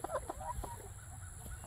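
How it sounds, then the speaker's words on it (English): Soft clucks from young pullet hens in a few short bursts near the start, then quieter fowl sounds over steady low background noise. "You love them cluck clucks"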